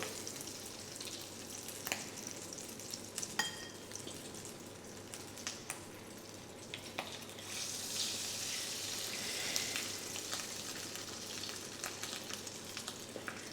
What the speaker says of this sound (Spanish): No me quiero distraer de las patatas que voy echando en el aceite